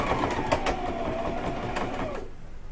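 A sewing machine runs a basic straight stitch with a rapid, even mechanical chatter, close and moderately quiet, stopping abruptly near the end.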